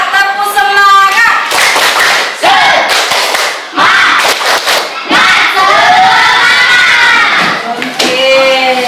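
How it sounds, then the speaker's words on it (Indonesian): A classroom of students performs a rhythmic spirit clap, sharp bursts of group clapping mixed with loud chanted, shouting voices, filling nearly the whole stretch with brief pauses between rounds. "Coba tepuk semangat."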